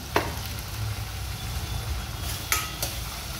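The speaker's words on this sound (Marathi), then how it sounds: "छान भाजला जातोय कांदा।" Onion frying in a pan with turmeric and chili powder, a low steady sizzle with a few soft clinks of a spoon against the pan, no voices.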